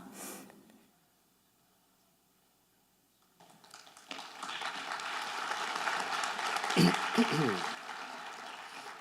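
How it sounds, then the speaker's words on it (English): After a quiet pause, a conference audience bursts into steady applause that swells and keeps going, with a few voices mixed in. "Can we get another applause, please"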